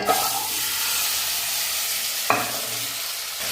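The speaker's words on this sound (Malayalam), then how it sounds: "വെളിച്ചെണ്ണ അടുപ്പത്ത് വെച്ച് അത് വെച്ചെടുത്ത് കടല ചേർത്ത് കൊടുക്കാം." Chickpeas fry in heated coconut oil with a steady, close sizzling hiss, broken by a sharp stirring clatter near the start and again midway.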